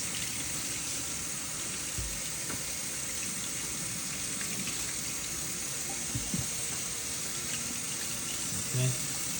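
Tap water pours steadily over dried sea moss being rinsed in a sink, a continuous close splashing with occasional soft knocks and handling sounds.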